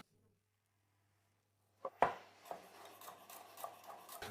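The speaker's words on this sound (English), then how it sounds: "Then chop the garlic." A knife chops garlic on a board after a near-silent start, with a sharp first strike followed by a run of quick, fairly quiet, uneven cuts.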